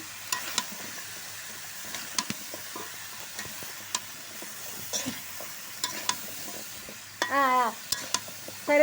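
Vegetable stalks being stir-fried in a pan for a stalk curry, a quiet low sizzle with scattered spatula clicks and scrapes, a brief squeaky burst near the end.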